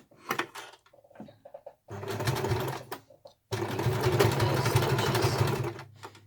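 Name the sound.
sewing machine stitching a glasses case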